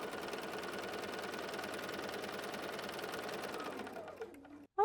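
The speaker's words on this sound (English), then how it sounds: "now we will simply take this to our machine and sew directly on the" A sewing machine stitches along a marked line on quilting fabric for a patriotic table topper, a steady, close, rapid mechanical chatter running for about four seconds before slowing and stopping, with a brief clunk at the end.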